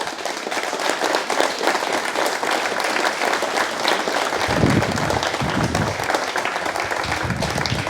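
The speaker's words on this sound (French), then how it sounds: "Vous pouvez les applaudir." An audience applauds a town mayor's address, steady dense clapping from many hands lasting the full eight seconds, loud and close, with a brief swell of low rumble midway and no speech over it.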